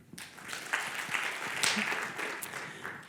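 An audience claps together in a short burst of applause, many hands at once, rising quickly and holding steady before tapering slightly.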